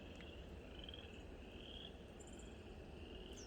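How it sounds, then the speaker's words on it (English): Frogs croak in a steady, continuous outdoor chorus, with a faint, high insect-like trill running alongside. "Can you hear the frogs and the birds?"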